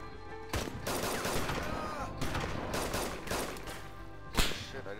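Rapid bursts of DayZ Standalone video game gunfire crackle through a busy, dense mix, with a sharp louder shot near the end and no clear speech.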